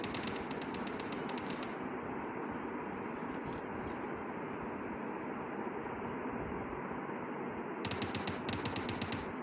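Rapid automatic gunfire from the mobile battle royale game PUBG Mobile crackles in bursts at the start and again near the end, sitting over a constant dense rumble of in-game background noise.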